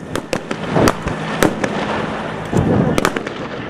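Gunfire crackles during an army counter-terrorism security drill held for the ICC Under-19 World Cup: a quick irregular string of sharp, loud reports over a steady rumble of background noise.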